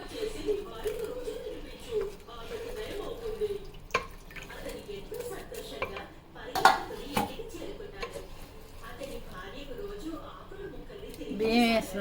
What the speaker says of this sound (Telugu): బియ్యం వేసినాక ఇట్లా తిప్పుకోవాలి.